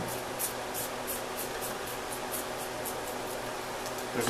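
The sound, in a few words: spraying cleaner on a squeegee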